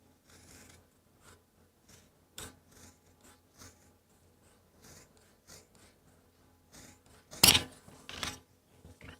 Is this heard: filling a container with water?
no